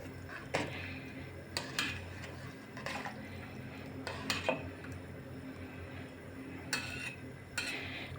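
A lentil dish is stirred in a pot, with a series of separate clinks and scrapes of a utensil against the pot. A steady low background hum runs underneath throughout.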